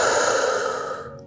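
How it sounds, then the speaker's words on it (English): A deep, slow exhale during a beginner's yoga stretch for low back pain, a close, breathy whoosh that fades over about a second, alone with no talking. "Big breath out."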